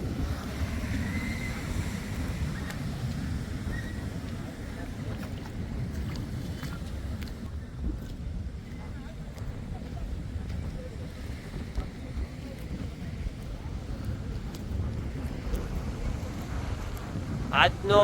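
Strong wind rumbles steadily across the microphone with a continuous low roar of surf beneath it at Porbandar beach in rain, loud and unbroken throughout.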